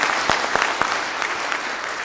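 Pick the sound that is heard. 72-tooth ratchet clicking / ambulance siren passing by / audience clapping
audience clapping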